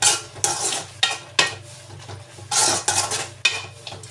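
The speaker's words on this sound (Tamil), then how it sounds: "இதை அதோடு போட்டு நல்லா வந்து வதக்கணும் மறுபடியும் போட்டு அதோட சேர்ந்து நல்லா வதக்கணும்" Mushroom gravy being sautéed in a pan at home, with loud intermittent clanks and scrapes of a metal spoon stirring against the pan, each burst separated by short pauses over a faint sizzle.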